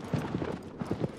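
Horse hooves in the video game Shadow of the Colossus, a quick run of soft, rhythmic clip-clops in two short clusters, fairly faint and close.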